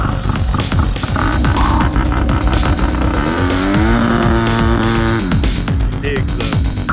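A custom-built turbo Polaris RZR 800 engine holds on two-step launch control, firing in loud rapid pops and crackles before rising in a sustained revving surge that falls back, close and dominant.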